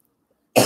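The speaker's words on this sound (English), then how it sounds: "So I see you got a cough." After a moment of silence, a single sharp cough bursts out close by.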